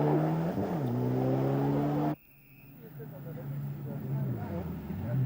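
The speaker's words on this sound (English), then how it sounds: "Meanwhile, Hans Stacy also going well here with the Mitsubishi" Mitsubishi rally car at the 1995 ELE-Rally, engine droning loudly with rising and falling pitch as it shifts, then cutting away abruptly to quieter engine noise that builds again.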